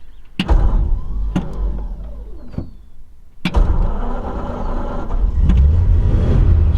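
1940 Ford Standard Coupe with 54K miles, its starter cranking with a few sharp clicks before the engine catches and settles into a close, rumbling idle.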